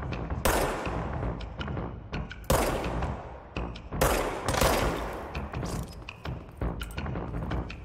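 Sniper fire in the video game Control arrives as several sharp, loud shots and bursts spaced irregularly over a few seconds, with brief echoing tails between them.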